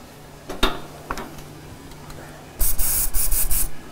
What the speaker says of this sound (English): Just take some contact cleaner and wipe all the debris out of there.